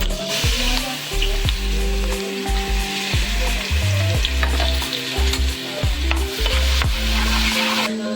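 Finely chopped ginger and garlic fry hard for pav bhaji, a loud crackling sizzle broken by repeated rhythmic scrapes and clanks of a spatula stirring against the pan.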